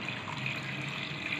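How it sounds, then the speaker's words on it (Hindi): Water pours steadily into a pot for mutton yakhni pulao, a soft continuous splashing rush heard up close with no talk. "7 से 8 कप पानी ऐड करेंगे।"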